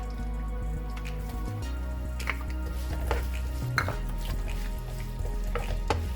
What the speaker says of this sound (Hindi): इस प्याज को 2 मिनट तक हल्का चलाएंगे